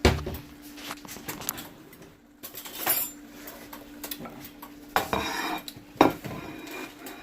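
Ceramic dishes and metal cutlery clink and clatter while shrimp and grits are plated in a home kitchen, with scattered sharp knocks and scrapes at varying loudness and a few louder clanks, no talking.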